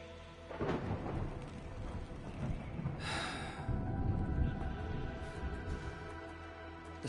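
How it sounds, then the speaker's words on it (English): Video game thunderstorm: deep thunder rumbles and rolls beneath steady rainfall, with a sharp crack midway; no voices are heard. "The sky is heavy with rain clouds. This weather is most fickle."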